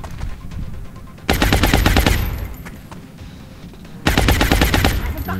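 Light machine gun fire in the game XCOM: War Within: two loud, close bursts of rapid automatic shots, each lasting over a second, separated by a quieter stretch of echoing tail and background game sound.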